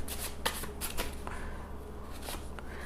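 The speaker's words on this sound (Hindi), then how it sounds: "एक और कार्ड निकालती हूँ मैं" A tarot deck is shuffled and cards are drawn, giving soft, papery riffling and flicking close by in a steady, quiet run of brushing sounds. No voices.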